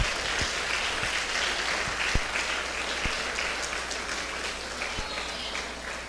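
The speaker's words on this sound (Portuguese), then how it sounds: "Se você crê, fique de pé e aplauda o nome dele." A church congregation applauds steadily throughout, a dense, continuous wash of clapping that fills the room at an even, full level, with a few sharper low thumps scattered through it.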